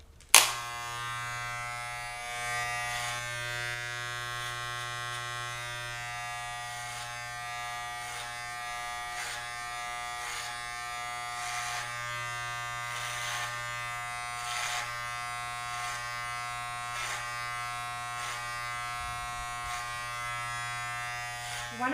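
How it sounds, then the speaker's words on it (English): Electric hair clippers run in a steady, close buzz throughout a men's clipper cut over a comb, with slight shifts in tone as the blades pass through hair. "make sure that your clippers stay over the comb"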